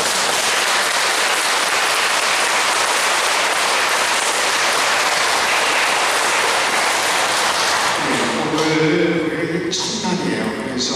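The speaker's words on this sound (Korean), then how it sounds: "여러분 큰 박수 다시 한번 부탁드립니다" Sustained applause from a church congregation at a Catholic vocations-support evening, honoring two seminarians. The clapping is dense and loud, and near the end it thins out as a voice begins speaking.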